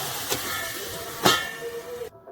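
Vegetables frying in a covered pan for a veg sandwich give a steady, loud broadband sizzle and hiss, with a couple of brief louder spurts before it abruptly cuts off.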